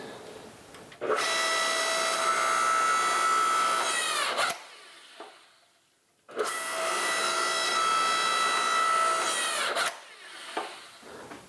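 A homemade forging machine built from a log splitter runs in two long cycles, each a loud, steady mechanical whine with a harmonic buzz lasting a few seconds, ending in a clunk and a short quieter pause.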